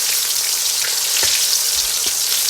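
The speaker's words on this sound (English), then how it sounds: "And put enough oil every time you cook the beef" Beef frying in oil in a hot pan gives a loud, steady crackling sizzle with a few sharper pops and spits throughout, close and continuous, with no talking.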